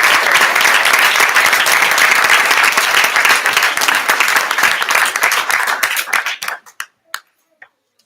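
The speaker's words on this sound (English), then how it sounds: "So one more round of applause for you subs." An audience at a school board meeting applauds in a loud, dense round of clapping that holds steady, then thins to a few scattered claps and stops.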